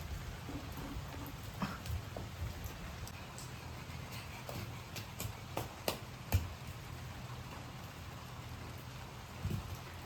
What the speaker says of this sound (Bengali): হঠাৎ বৃষ্টি চলে এসছে তাই জন্য রান্নাটা ছাতা দিয়ে করতে হচ্ছে